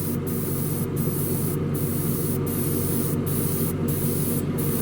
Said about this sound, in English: Help if I turn the airbrush on. Give it a little test spray.